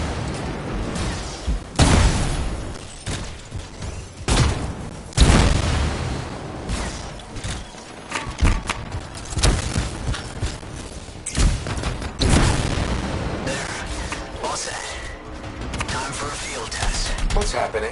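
A canister trap sets off explosions in the Anthem video game, a dense run of loud booms and blasts over about eighteen seconds amid continuous gunfire-like crackle and chaotic combat noise.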